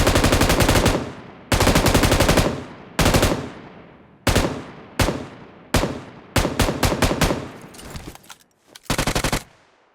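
Bursts of automatic gunfire in the PUBG Mobile battle royale game, loud and close, with long sustained volleys followed by shorter, choppier bursts of rapid shots.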